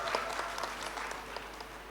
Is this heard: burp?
no